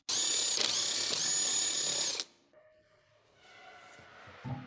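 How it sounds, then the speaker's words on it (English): A socket on an impact tool loosens the lug nuts on a Ford Fusion: a loud two-second whirring burst cuts off sharply, followed by quieter clinks and handling noises. "use a 19mm deep socket to loosen the lug nuts"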